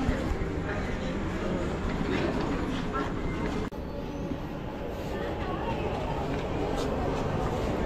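A metro train in Bangalore rumbles steadily close by at peak hour, with a continuous rolling roar and faint rail clatter, and people talk quietly in the background.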